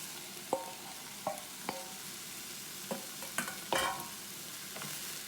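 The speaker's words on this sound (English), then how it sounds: "I can add in my diced onion and also my minced beef" Diced onion and minced beef frying in a pan with bacon and carrots, a soft sizzle broken by several sharp scrapes and stirs of a utensil, no voices.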